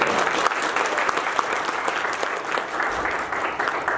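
A concert audience gives steady, dense applause for child performers at a memorial music concert, continuous and fairly loud throughout.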